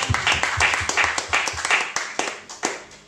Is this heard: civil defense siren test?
no